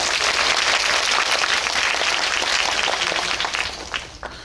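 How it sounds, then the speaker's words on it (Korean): Warm, dense applause from a theatre audience at a film talk event for the Korean film Parasite, loud and continuous before tapering off with a few last claps. "박수 부탁드립니다."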